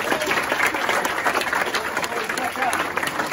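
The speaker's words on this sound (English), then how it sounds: "Yes, a big round of applause for Blair." A football club audience breaks into applause for a raffle winner, dense rapid clapping sustained throughout, with a voice speaking over it.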